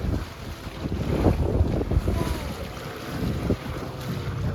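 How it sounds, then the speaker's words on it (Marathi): A boat rocks on the sea off Malvan near the Golden Rocks, with steady wind buffeting the microphone and water sloshing and lapping against the hull close by throughout. "हा बोट हलते ना भाऊ."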